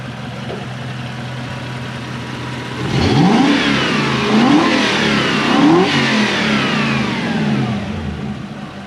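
A Toyota Celsior (Lexus LS400) V8 idles near from a dead cold start with an idle issue, a low steady hum before the engine is blipped several times, producing short rising revs that fall back to idle.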